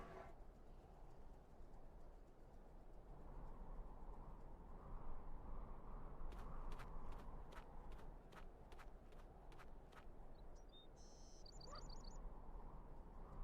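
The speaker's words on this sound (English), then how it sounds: "Hey, Yuki, leave that bird alone." A bird quacks faintly a few times over a steady ambient wash in the video game Syberia 2, followed by a short run of clicking sounds.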